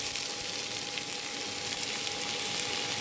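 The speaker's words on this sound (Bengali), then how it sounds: "এই ফোড়নটা একটু নাড়াচাড়া করে নিয়ে আমি এর মধ্যে দেব পেঁয়াজ" Onions sizzling steadily in hot oil tempered with cumin, dried red chilli and bay leaf for Bengali mutton ghugni, a dense continuous frying hiss close up with no pauses.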